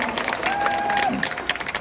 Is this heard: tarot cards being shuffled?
no